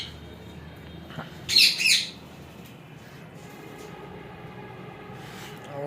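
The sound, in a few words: rosella parrots calling in a shed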